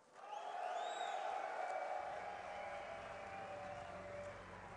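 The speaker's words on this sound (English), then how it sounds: "give a cheer for the Terran player, Naama!" Arena crowd cheering for the Terran player Naama at a DreamHack StarCraft 2 grand finals; a sustained roar of many voices swells quickly and holds, with whoops and high shouts riding above the steady din.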